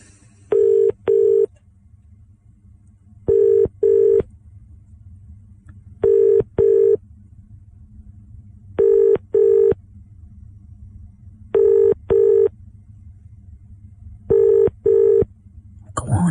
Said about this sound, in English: Go on, pick up the phone.